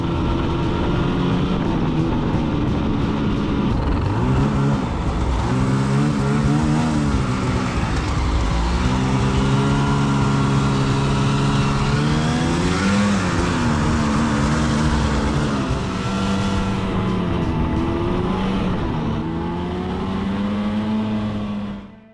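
A Polaris Riot X crossover snowmobile engine revs and pulls through deep powder, its close, loud drone rising and falling in pitch with the throttle over a sustained run.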